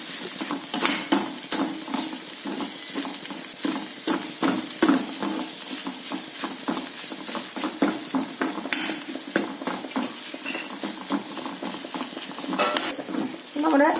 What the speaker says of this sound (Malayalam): നമ്മുടെ വഴറ്റിയ സവോളയും നമ്മുടെ മസാലകളും ഇഞ്ചി വെളുത്തുള്ളി എല്ലാം കൂടെ വഴറ്റിയത് നല്ല ഏകദേശം നന്നായിട്ട് വഴന്നു കഴിഞ്ഞു